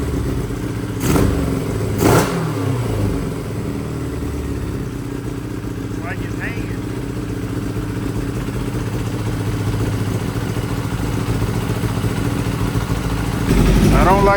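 A Kawasaki Ninja ZX7R motorcycle engine that is low on gas runs steadily at close range with an uneven idle, with a couple of brief blips and a rise near the end.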